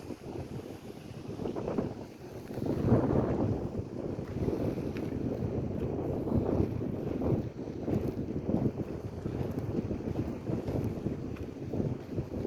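Steady wind buffets the microphone in gusty rumbles on a hillside above a beach on Naxos Island, Greece, with a faint wash of water in the background and no voices.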